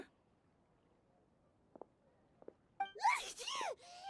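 A game character sneezes in Genshin Impact, a short burst of breathy, tonal sneezing near the end that follows a few faint earlier sniffs, with nothing else around it.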